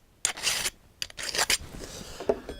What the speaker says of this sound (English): We'll take a sharp plexi scraper or a metal scraper, and again, putting a burr on the scraper.